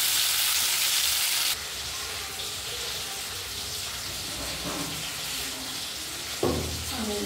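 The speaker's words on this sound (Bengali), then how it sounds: "হলুদ আর একটু লবণ দিয়ে এটাকে ভেজে নেবো" Fish coated with turmeric and salt frying in a pan, a steady soft sizzle throughout with a brief louder burst near the start and a few clinks of a utensil later on.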